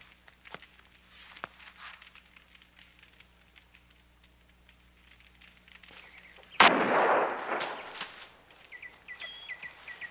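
A Brown Bess musket fires once in a period film scene, a sudden loud blast partway through followed by a ringing, decaying tail over quiet ambient background.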